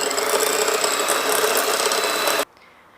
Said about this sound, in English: And now again whisk it together.